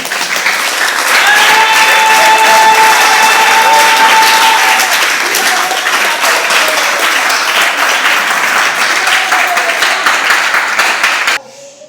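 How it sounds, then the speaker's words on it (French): Church congregation applauding and cheering in praise of Jesus, a dense, loud, sustained wave of clapping from a large crowd that holds steady for about eleven seconds before cutting off abruptly. "Acclame encore Jésus."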